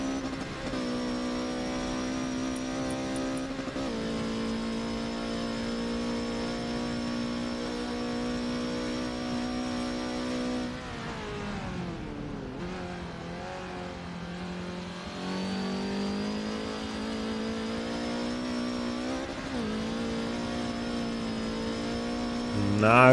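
An onboard race car in a Fast 4s round drives through a tricky section, its engine holding a loud, steady high-pitched drone that dips and recovers midway before climbing again, with no voices.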